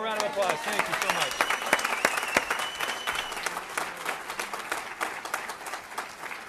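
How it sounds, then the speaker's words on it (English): An audience at a National MS Society chapter's annual awards celebration in Utah gives sustained, fairly loud applause that slowly thins out over several seconds, with a voice speaking over the clapping. "One more round of applause."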